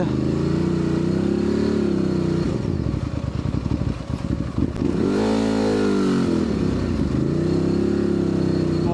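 A Ducati DesertX adventure motorcycle rides off-road through slippery mud, its engine droning loudly and close, dipping and rising as the throttle is worked, with brief clattering bursts in the middle.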